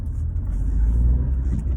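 A car engine rumbles steadily and close in traffic, a low continuous drone with a slight swell as it accelerates, alone without talk.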